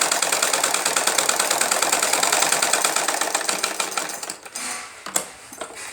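A sewing machine stitches a salwar belt in a rapid, steady mechanical chatter that runs continuously, then stutters and pauses briefly near the end with a few short bursts; no talking.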